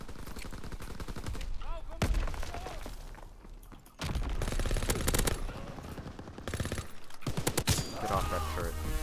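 A PPSh submachine gun fires in the WW2 video game in long, rapid automatic bursts, loud and close, broken by brief pauses, with occasional talk in between.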